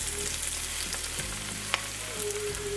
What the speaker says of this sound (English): now we're just going to let this fry in that oil